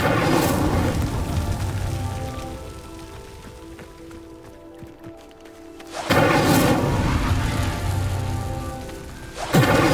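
Incendio fire spell cast in Hogwarts Legacy, a roaring whoosh of flame that bursts loud at the start and again near six seconds, fading to a low crackle between surges.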